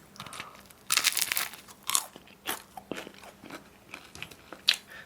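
Close crunchy bites into the crisp crust of fougasse leaf bread, a few loud crackling crunches followed by quieter chewing and crackles, with no talking.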